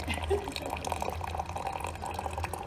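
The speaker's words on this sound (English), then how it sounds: "Oh look, hot water comes out on the right." Hot water pouring from the right-side tap of a water dispenser into a cup, a steady trickling stream with some splashing, heard close under a quiet voice.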